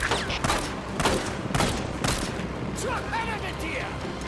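Gunfire in the open-world zombie game Days Gone: several sharp bursts of shots in quick succession over the first two seconds, then a busier stretch of game noise and mechanical clatter, with someone talking through it.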